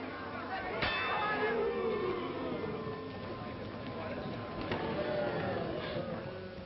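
A sharp clanging round bell at a boxing match in a 1942 film, struck near the start and again later, ringing out over crowd noise while people talk.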